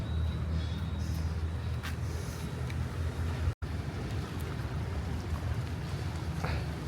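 A big barge passes on a river in Bến Tre, Vietnam, with a low, steady engine rumble and a broad wash of water and wind noise that holds evenly throughout, and no talking.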